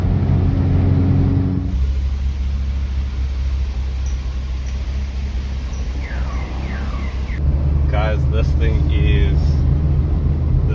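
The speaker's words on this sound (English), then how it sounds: "I'm going to insert footage of me driving the car" A Volkswagen Golf GTI Mk2 engine hums steadily from inside the cabin with road rumble, and someone speaks briefly over it.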